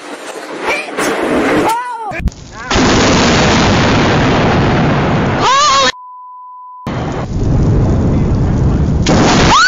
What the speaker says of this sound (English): It's been a while since we had a storm coming from a direction we can actually see it.